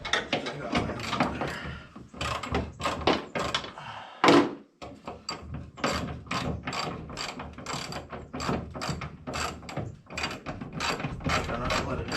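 A hand ratchet clicks in rapid bursts while backing a screw out of the hood of a Datsun 280Z. The close, repeated clicking is broken by short pauses and one dull thunk.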